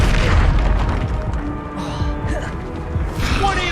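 The Confringo fire spell in Hogwarts Legacy explodes as a loud, booming blast, and crackling, whooshing combat effects follow under dense game noise.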